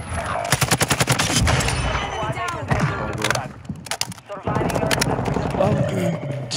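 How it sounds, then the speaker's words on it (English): Rapid bursts of automatic gunfire in Warzone 2 rattle loudly in short volleys, with a few pauses, while players talk over the shooting. "Oh, I'm getting shot."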